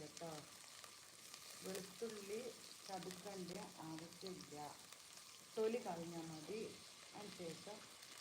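Curry ingredients, green chillies, crushed garlic and tomato, sautéing in a pan: a steady soft sizzle and frying hiss runs throughout, beneath a voice speaking continuously at close range.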